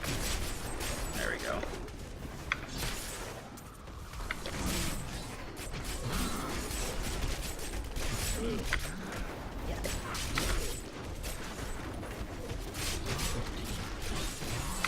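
A Barbarian's Whirlwind skill in Diablo 3 plays out as dense, continuous combat game audio with mechanical clanks, rapid impacts and swirling noise, and a voice talks over it.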